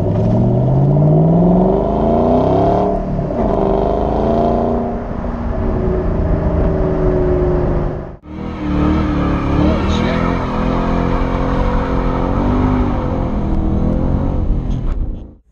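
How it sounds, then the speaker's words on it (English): A Shelby GT500 with a loud exhaust rumbles and revs, the engine note rising and falling in deep swells, dipping briefly midway and then roaring again, with people talking over it. "the loud exhaust"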